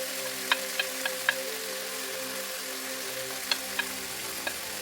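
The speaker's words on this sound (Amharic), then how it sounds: "በዘይት እንደዚህ ትንሽ ከጠበስኩትኝ በኋላ ከትፌ ያዘጋጀው ትንሽ ሽንኩርት ጨምራለሁ።" Onion frying in a little oil, a soft continuous sizzle with a low steady hum beneath and a few sharp clicks of utensils against the pan.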